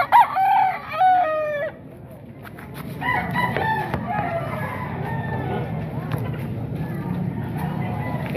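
Several roosters crow and chickens cluck at a Baliwag tiangge poultry market, with clear repeated crows up close early on and more calls later over a steady crowd murmur and talk.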